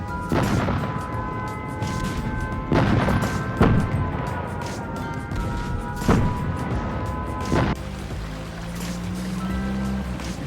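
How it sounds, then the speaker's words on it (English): Bombs exploding nearby in an animated film, heard as a series of heavy booms a few seconds apart over a steady rumbling background. "The bombs don't fall too far from here."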